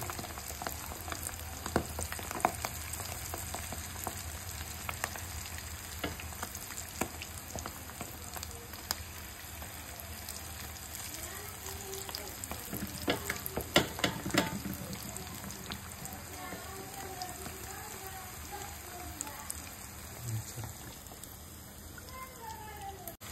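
Oysters fry in hot oil with a dense, steady sizzle and bubbling crackle that carries on throughout, close and fairly loud, with occasional stirring pops.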